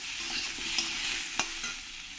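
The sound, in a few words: frying potatoes with salt and turmeric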